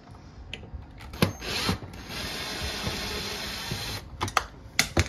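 Large screws are being removed from a refrigerator's outer control panel, giving scattered close clicks and knocks around a steady mechanical whir that runs for about two seconds, then sharp taps at the end.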